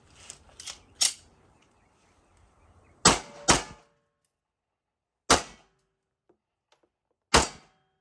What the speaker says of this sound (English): Nothing in the chamber. Go ahead and rack it.